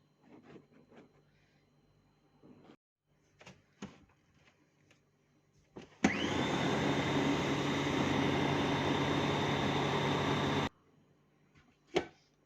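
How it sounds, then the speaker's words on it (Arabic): Food processor grinding a falafel mixture of ground beans, a loud steady motor roar that starts abruptly and runs about four seconds before cutting off, framed by quieter clattering and handling noises before and after. "كل شويه اقلب الجناب كده وانزلها لتحت وافرم تاني"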